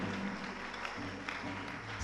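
A church congregation clapping in time, a rhythmic patter of many hands heard at moderate distance.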